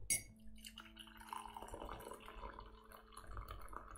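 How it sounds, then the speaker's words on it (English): A cup of tea being poured, liquid trickling steadily into a glass or cup with a faint clink at the start, close and fairly quiet throughout. "let's pour a cup of tea"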